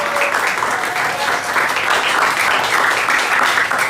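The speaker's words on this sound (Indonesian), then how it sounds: "Boleh beri tepuk tangan dulu." A classroom of students claps together in a steady, lively round of applause, many hands close by, holding an even level throughout with a faint voice audible near the start.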